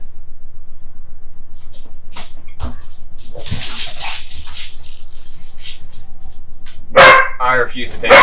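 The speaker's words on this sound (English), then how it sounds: "That's my dog and my other brother's dog playing." Two dogs playing and barking in a room, with loud, scrappy bursts near the end that sit alongside ongoing talk.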